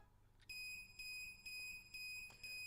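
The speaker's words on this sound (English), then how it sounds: "Watase's Procyon started beeping louder than he'd ever heard it before when he opened the connecting passageway gate to Area N" A Procyon radiation detector in the Root Double video game, giving a steady high electronic tone that pulses in repeated beeps about every half second, clean and fairly quiet.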